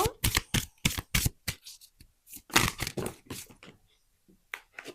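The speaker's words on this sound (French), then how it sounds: "je vais prendre, si c'est possible, 3 cartes de plus pour terminer ce tirage" Tarot cards are handled and drawn from a deck during a reading: a run of crisp, papery snaps and shuffles, close and fairly loud, bunched in quick clusters and then thinning to a few last flicks.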